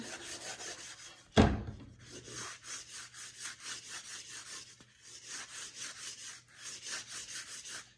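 Steady rhythmic scraping of a sanding block on wood edges, repeated back and forth close up, interrupted once by a sharp knock.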